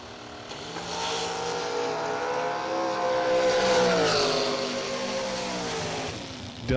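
Race car engine at about 8,000 RPM, a loud sustained high-pitched wail with rising and falling harmonics as it passes, steady for several seconds then easing off near the end.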